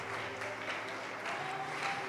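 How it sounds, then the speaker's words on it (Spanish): A church congregation applauding during an evening service, a steady wash of clapping from many hands held at an even level for the whole moment, moderately distant. "Fuerte, fuerte ese aplauso esta noche."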